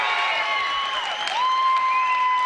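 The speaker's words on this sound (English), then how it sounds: "a big reaction from the Shawnee crowd as they finally get a victory" Shawnee fans in a high school wrestling gym applaud and cheer a 126-pound victory at Cherokee, a dense, steady wash of clapping and shouting with whistle-like tones throughout.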